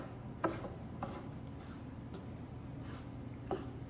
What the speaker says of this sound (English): So what I do is I cut them up.